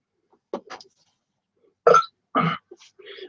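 A gassy pig's burps come as a cluster of short, close gulping bursts, with two stronger belches in quick succession and a softer one after, separated by silence.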